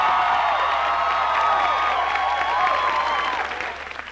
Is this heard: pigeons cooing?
no